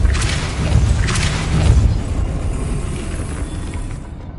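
A Depulso force spell blast in Hogwarts Legacy, a loud booming whoosh with a couple of sharp hits early on that fades into a decaying rumble.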